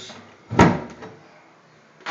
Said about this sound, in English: When we shut the bathroom door here